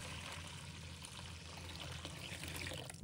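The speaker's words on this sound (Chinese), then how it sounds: "再倒入温水" Warm water poured steadily over raw pork liver in a bowl, a continuous close rushing splash with no talk over it.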